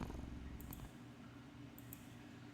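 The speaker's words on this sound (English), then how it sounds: "You listen as the cat pads over to you while lying down and purring sleepily." A cat purrs sleepily in a video game, a soft low rumbling purr that holds steady throughout, quiet and close, with a couple of faint higher clicks.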